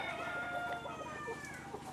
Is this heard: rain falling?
no